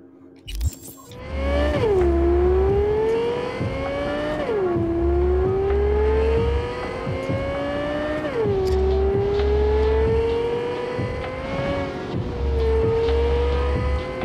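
A supercar's engine in Cyberpunk 2077 revs up through several gear changes, each climb dropping abruptly and building again, loud and close with a faint tire whir and no talk.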